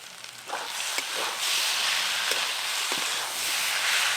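Panch phoron spices and a bay leaf crackle into hot mustard oil with sugar and slit green chillies, a steady close sizzle with sharp pops that swells after a quiet start and keeps spitting throughout.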